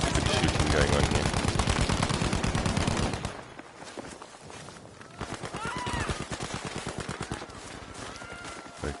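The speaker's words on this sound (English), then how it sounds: "Good fighting, good shooting going on here." Rapid bursts of automatic gunfire fill a shooter video game match, loud and dense at first, then sparser shots and footsteps under excited commentary.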